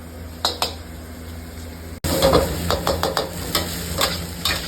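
Fried rice is stirred and tossed in a hot iron wok, with a steady sizzle under repeated metallic scrapes and clinks of the spatula against the pan. A sharp break comes partway through before the busier stirring resumes.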